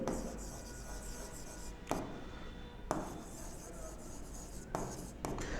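Someone writes on a board during a biology lesson, a close, quiet scratching and rubbing in continuous strokes, broken by a few sharp taps as the writing tool strikes or lifts from the surface.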